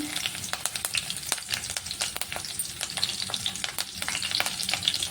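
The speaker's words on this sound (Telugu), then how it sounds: "ఆయిల్ హీట్ అయిన తర్వాత ఇందులో కొద్దిగా ఆవాలు కొంచెం జీలకర్ర అలాగే కరివేపాకు" Mustard seeds, cumin and curry leaves sizzling in hot oil, a steady close hiss dotted with rapid crackles and pops that runs throughout.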